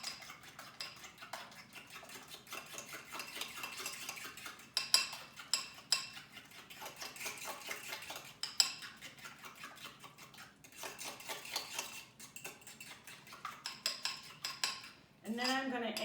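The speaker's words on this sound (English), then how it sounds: "So I'm going to mix these together to get kind of a creamy mixture." A utensil clinks and scrapes rhythmically against a bowl while wet scone ingredients are mixed into a creamy batter, with quick repeated strokes that speed up toward the end.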